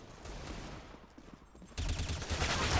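Bursts of rapid gunfire from shooting at an enemy in a first-person shooter game, heard as a dense rattling fusillade that grows louder toward the end, with no voices.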